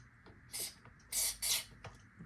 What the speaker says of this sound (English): So I'm going to take some fluid film, and we're going to just kind of spray it up in there